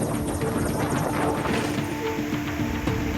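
Helicopter flying over flooded ground during a rescue in heavy Rajasthan rains, its rotor chopping in a loud, steady rhythmic drone that holds throughout, with no voices.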